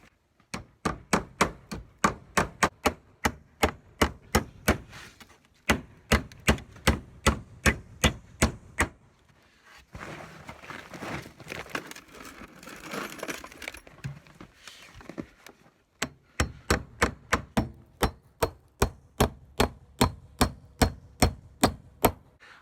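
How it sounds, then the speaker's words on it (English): Long nails are hammered into 4x4 timber on a maple sugar shack, sharp regular blows in fast rhythmic runs of a dozen or more strikes, close and loud, with a pause of rustling work in between. "These are long nails, but I have some 4x4s I have to hammer into"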